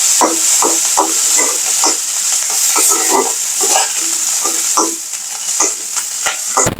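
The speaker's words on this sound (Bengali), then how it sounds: "তেল গরম হওয়ার পরে কিন্তু শুটকিটা দেওয়া হলো এবং সেটা অনেক নাড়াচাড়া করা হচ্ছে" Dried fish frying in hot oil and being stirred, with a loud steady sizzle close by and a regular series of scraping utensil strokes against the pan, no one talking.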